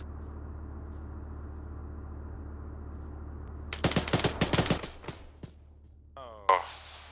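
Bursts of automatic machine gun fire in the video game Arma 3 crackle in a rapid cluster mid-clip over a low engine-like rumble, followed by a few scattered shots and a brief sharp sound near the end.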